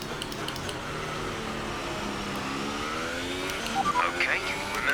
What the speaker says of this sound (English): Hear my engine getting a little rattly back there.